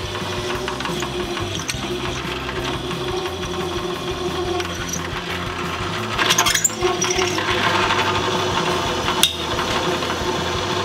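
Metal furniture feet being drilled for bolt holes in a fabrication shop, a steady continuous machine whir with occasional sharper metallic clicks and bursts, loud and close throughout with no talking.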